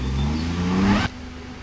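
A motorcycle engine revs and whirs near a waterfall area as residents arrive, rising in pitch for about a second before cutting off abruptly, leaving a quieter background hum.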